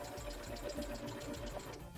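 A sewing machine quilting a small Christmas mini quilt, a quiet steady rapid stitching rattle that runs evenly without pause.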